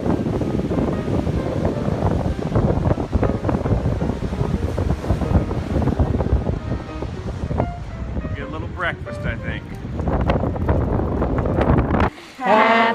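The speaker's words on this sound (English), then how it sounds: "Got a little wind here today." Strong outdoor wind buffets the microphone in a steady roar through most of the stretch, with occasional voices mixed in, then a brief break near the end.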